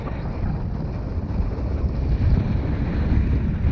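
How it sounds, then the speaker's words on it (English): Strong wind buffets the microphone on a recumbent trail ride in the Sinton foothills, a steady, dense roar that swells slightly louder toward the end, with no other sounds. "Yeah, that wind has really come up, boy."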